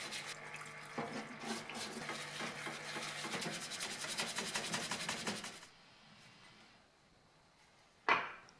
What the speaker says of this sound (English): I give everything a good clean with the parts washer to remove any old grease and dirt.